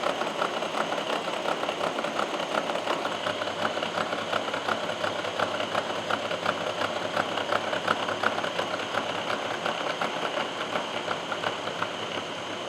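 Horizontal milling machine cutting a cast iron straight edge: a steady mechanical whir and drone with a fine, continuous cutting chatter, holding an even level throughout without voices.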